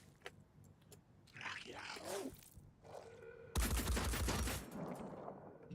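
Gunfire in the video game Phoenix Point, a dense burst of shots in the second half over game ambience and scattered effects, with no talking.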